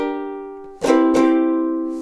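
Ukulele strum of a single chord for a tutorial, the fingers held down so the notes keep ringing: two quick strums, down then up, close and bright, with a long sustain and no talking.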